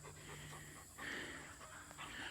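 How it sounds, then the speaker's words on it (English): A big Great Pyrenees dog pants quietly on a farm, with soft rapid breaths repeating in a steady rhythm, faint and close, with no talking. "She's a big friendly dog."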